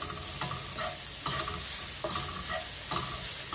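Chopped shallots with salt sauté in a pan, a close, even sizzle broken by regular stirring strokes that recur about every second.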